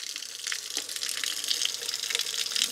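Water from a ram pump's delivery pipe pours steadily into a tank, a continuous bright rushing splash with no pauses or talk.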